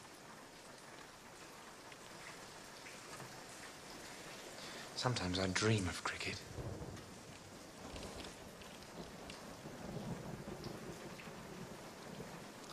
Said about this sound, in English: This rain don't seem to stop,